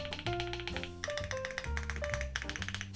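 Keys on a Keychron Hertz custom keyboard, including stabilized keys, pressed in a quick run of close, crisp taps with a resonant, tonal ring to each keystroke and no talking.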